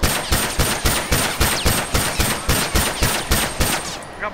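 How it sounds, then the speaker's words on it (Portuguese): In the video game The Last of Us, a gun fires rapidly and evenly, about three shots a second, with each loud, close crack ringing briefly before the next and no voices. "É possível, sim, atirar nessa velocidade sem controle turbo"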